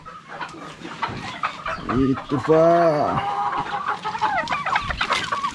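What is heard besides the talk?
chickens clucking, hungry for feed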